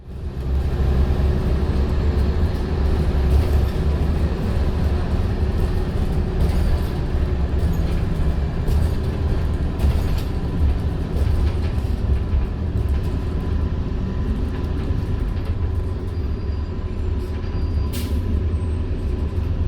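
Steady, loud engine drone and road rumble inside or beside an Iveco Metro bus with Volgren Optimus body, run by Keolis Downer Northern Beaches, with occasional rattles and clicks throughout.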